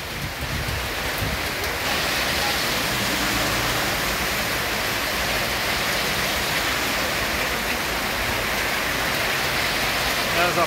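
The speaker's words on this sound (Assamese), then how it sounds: "বহুত ধাৰাসাৰ বতাহ বৰষুণ" Heavy rain lashes down in a windy storm, a dense unbroken hiss of water filling the scene for the whole stretch, with someone talking underneath.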